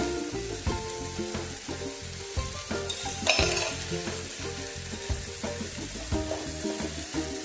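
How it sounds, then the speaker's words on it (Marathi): Tomatoes fry in a pan for brinjal bharta, sizzling steadily with repeated scraping and stirring clatter of a spoon against the pan, close and moderately loud, without talk. "टमाटे पण छान मऊ करूया चवीनुसार मी ॲड करेन म्हणजे टमाटे आपले पटकन मऊ होते"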